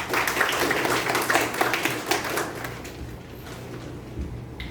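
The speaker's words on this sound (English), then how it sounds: "Please give a thunderous round of applause." An audience at an indoor meeting bursts into dense clapping that thins and fades toward the end, with a faint low hum underneath.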